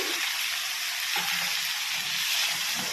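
Pointed gourd (potol) sizzling steadily in hot oil with grated ginger and salt in a home kitchen pan, a continuous close frying hiss with faint stirring scrapes, no talking.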